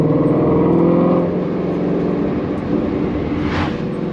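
A Ford Mustang Shelby GT350R engine revs with the windows down on a hot day, a loud throaty rise and hold that settles into a lower drone, with a brief hiss near the end.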